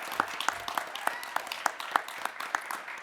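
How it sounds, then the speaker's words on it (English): A small audience at a business pitch contest gives the contestants a round of applause, a thin, fairly sparse spatter of individual claps in a steady rhythm. "Can we get a round of applause, please?"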